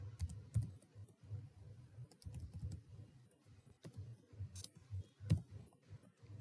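HTML code is typed on a computer keyboard in quiet, irregular bursts of soft, close key clicks with short pauses between runs.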